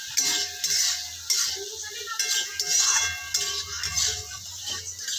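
Spices such as black pepper and garam masala frying in a pan while a metal spoon stirs and scrapes: repeated clinks and scrapes over a soft sizzle, close and steady, no talking.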